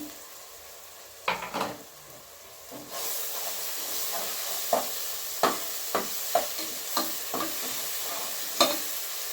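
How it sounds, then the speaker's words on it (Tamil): Ginger and garlic sauté in a pan for Vellore chicken biryani, hissing steadily while a spoon scrapes and taps the pan at irregular intervals. "75 இஞ்சி, 75 பூண்டு வச்சுருக்கேன். ஒரு 150 கிராம் இருக்குதுல்ல, அதையும் நல்லா வதக்கிடுவோம்."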